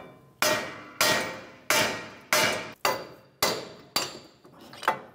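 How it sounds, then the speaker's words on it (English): Seven sharp metal hammer blows tapping a wheel hub out from the back side on a 2011-2019 Ford Explorer, at a steady, deliberate pace, each ringing briefly before decaying, close and loud with no talking. "I'm going to take a hammer and just tap the hub from the back side and slide it out"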